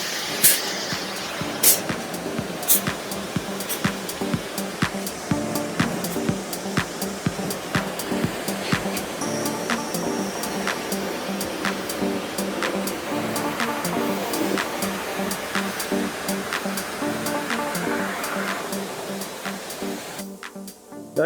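A hose sprays water steadily to rinse a Fiat convertible after a rinseless wash, a continuous close hissing with intermittent splashing and clicks, running for about twenty seconds without speech.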